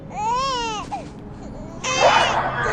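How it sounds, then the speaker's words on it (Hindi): In the horror zombie survival game The Fall 2, a baby cries in two rising, wavering wails separated by a short pause, fairly close and clear. "और यहाँ पर कोई बच्चा रो रहा है,"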